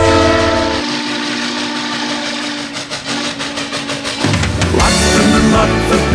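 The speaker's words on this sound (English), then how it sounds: "here they come, clickety-clack, down the track" A steam train rumbles past on the track, loud and close, with continuous wheel and engine noise that swells near the end; no voices.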